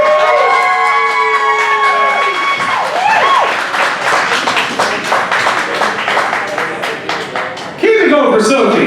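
Applause and cheering from the audience at a Dayton, Ohio poetry slam, dense rapid clapping with whoops and shouted voices over it. A voice speaks near the end as the noise briefly jumps louder.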